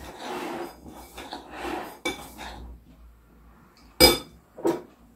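A spoon knocks and scrapes against a bowl while mixing gluten-free sandwich-loaf dough, giving rhythmic scraping strokes followed by two sharp clinks near the end.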